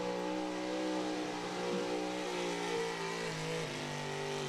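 A pulling truck's engine at a truck and tractor pull revs hard and holds a sustained droning roar while its wheels spin out, with the pitch wavering slightly, heard from a distance.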